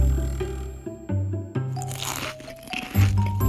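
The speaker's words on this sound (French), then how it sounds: "Oh, des chips. Vous permettez? Elles ont l'air super croustillantes en plus." Someone biting into crispy potato chips, a series of sharp, close crunches at an irregular pace, loud and up front with no one speaking.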